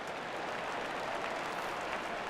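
A stadium crowd in the baseball video game MLB The Show 14 reacts to a fly ball with a steady, distant wash of murmuring and oohing that carries evenly throughout.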